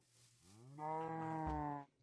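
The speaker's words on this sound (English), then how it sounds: "We have the sole singular cow." Minecraft cow in a modpack giving a single drawn-out low moo lasting about a second, clear and fairly close with nothing else over it.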